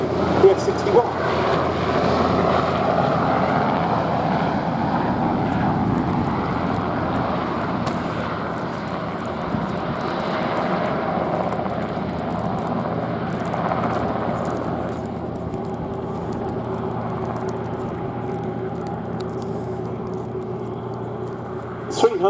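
A Westland Wessex helicopter flies at the Shuttleworth Fly Navy 2022 airshow, its steady rotor and engine drone holding at a distance while a commentator talks over it.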